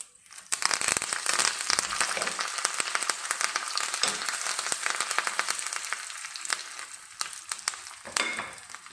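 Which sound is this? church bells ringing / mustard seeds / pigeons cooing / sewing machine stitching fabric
mustard seeds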